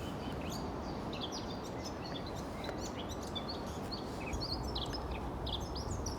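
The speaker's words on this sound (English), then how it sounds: "this is a blackcap. He's hiding a little bit in a tree, but he's being very loud" A blackcap sings from hiding in a tree, its quick chirping phrases repeating over a constant outdoor hiss at low level.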